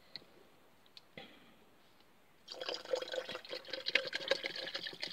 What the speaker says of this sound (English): Fill up my water bottle.